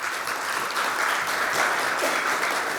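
Audience applause for an event sponsor, a full, steady burst of crowd clapping that holds at a constant level for the whole short stretch, with no one speaking.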